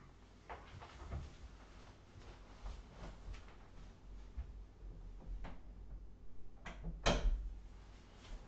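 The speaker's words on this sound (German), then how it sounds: "Ich muss noch kurz meine Türe vom Büro zumachen" An office door pushed shut indoors, a soft latch click and thud standing out near the end amid faint room noise and small handling knocks.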